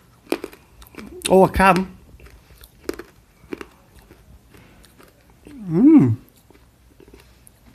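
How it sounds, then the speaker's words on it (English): Bassetts Mint Imperials, hard peppermint sweets, bitten and chewed close to the mouth: a brief crunch burst early on, then quieter chewing, with short spoken words and a hummed sound of approval. "Let me see if I can bite one in half."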